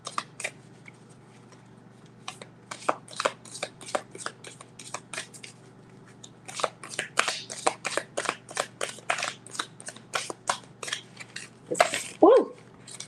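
A large tarot deck of cards spills and is shuffled by hand indoors, giving a quick run of crisp flicking riffles and slaps that come in bursts, with a short exclamation near the end.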